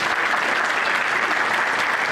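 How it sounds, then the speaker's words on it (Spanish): An audience applauds with dense, continuous clapping that is loud and even from start to finish. "También un aplauso."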